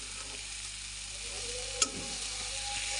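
Ching fish chutney with green chillies fries in a pan with a steady, soft sizzle throughout, broken by one brief sharp clink of a utensil partway through.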